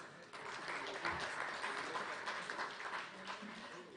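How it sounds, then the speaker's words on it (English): Applause from a panel-discussion audience at a forum on cashless payments in Rwanda, a steady wash of clapping that holds for about four seconds at moderate distance, fairly soft, with some voices faintly mixed in. "Another round of applause for our panelists."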